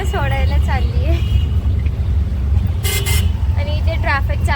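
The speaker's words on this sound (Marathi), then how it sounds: "आणि इथे ट्रॅफिक चालू झाली परत एकदा असाच लेट होत आहे" City traffic surrounds the listener, with repeated horn toots from nearby vehicles over a steady engine rumble and several quick honks at the end; someone talks under the noise.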